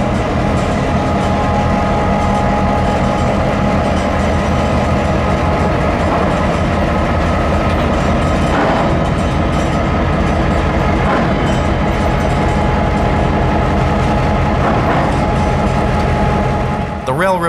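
Norfolk Southern 1001 switcher locomotive number 2103 moving railcars at a shop yard, with continuous grinding, clanking wheel and coupler noise and a steady mechanical rumble, close and loud throughout.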